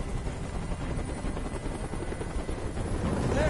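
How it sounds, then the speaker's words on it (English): Helicopter rotor and engine noise from the Detroit: Become Human hostage demo hovers steadily and loudly for the whole stretch, a dense continuous roar with no voices over it. "I can't stand that noise anymore. Tell that helicopter to get out of here."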